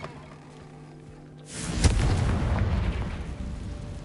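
A Confringo explosive spell from Hogwarts Legacy bursts with a sudden loud blast about a third of the way in, then a sustained fiery roar and rumble that lingers to the end, with no talking.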